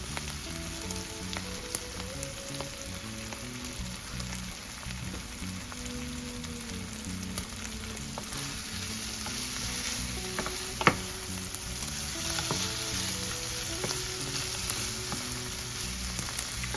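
Green beans, freshly drained of their canned taste, frying in a pan, steady soft sizzle and crackle throughout with occasional small pops and utensil clicks, moderately faint and close.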